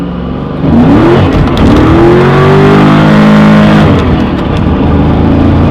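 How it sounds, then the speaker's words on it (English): Ford Mustang Mach 1 on 275 tires launching hard, engine revving loud and close with rising pitch as the rear tires spin and squeal, then easing off. "I'm gonna show you guys what I mean when I say these tires do not hook up"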